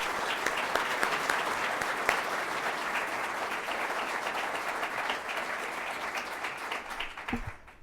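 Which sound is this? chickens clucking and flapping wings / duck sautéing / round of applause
round of applause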